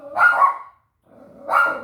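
A dog barks twice, two loud close bursts separated by a short pause, indoors at home.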